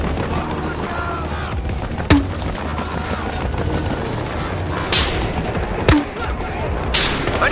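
Gunfire in the video game Battlefield Hardline during a Conquest match: a few separate sharp shots and booms spaced seconds apart over a constant rumbling battle background.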